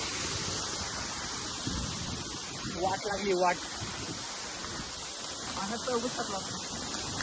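A steady wash of heavy monsoon rain on the Harishchandragad trek keeps going under a voice, which speaks a couple of short bursts.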